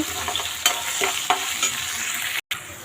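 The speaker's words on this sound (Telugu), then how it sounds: "పెసరపప్పు అలాగే శనగపప్పు అవి కూడా వేసేద్దాము అవి కూడా వేసేసి బాగా వేపుకుందాము" Soaked moong dal and chana dal frying in a hot tempering, with a steady close sizzle, a few sharp stirring clinks and a brief cut to silence near the end.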